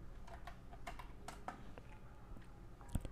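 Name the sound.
typing on a computer keyboard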